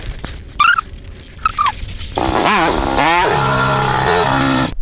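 A TVS Apache RTR 200 4V Race Edition motorcycle starts with a few short sputters, then revs up sharply twice and settles into a loud, steady idle close by.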